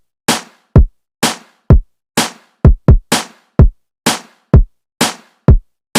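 A layered snare stack from an old drum kit plays with a kick drum in a steady hip-hop beat, deep booming kicks alternating and doubling between sharp snare cracks, loud, dry and without voices.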